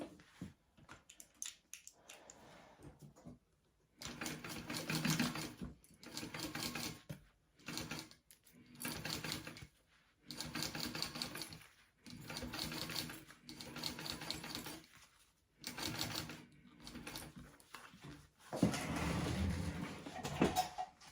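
A sewing machine stitches fabric in repeated bursts of a few seconds each, separated by short pauses. The mechanical whirring is fairly close and clear, with no talking over it.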